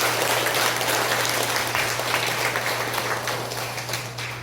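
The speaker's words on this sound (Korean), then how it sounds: "박수 하나 더 드리겠습니다." Steady, dense applause from a church congregation during a Sunday worship service, filling the room evenly at close range for several seconds and tapering slightly at the end, with no talking over it.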